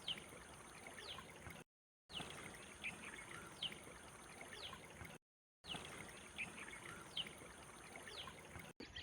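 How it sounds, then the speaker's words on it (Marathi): Continuous rushing, pouring water gushing from holes in a dam near Sukali Dolarkheda village at moderate distance, steady and unbroken, with no voices. "मोठ्या प्रमाणात पाण्याचा विसर्ग होत आहे"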